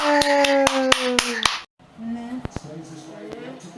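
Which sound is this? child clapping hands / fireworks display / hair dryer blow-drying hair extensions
child clapping hands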